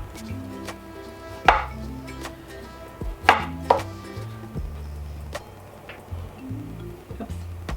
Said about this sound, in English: we're just cutting off the hard, rough, cruciferous edge